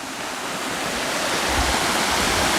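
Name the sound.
flowing water on the Falls Trail near Mohawk Falls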